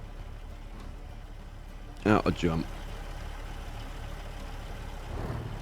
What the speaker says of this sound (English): Leave the engine running.